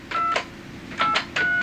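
Touch-tone keypad tones from a 1970s Datapoint terminal phone system entering an identity number: three short bursts of paired tones, loud and close, with no talk.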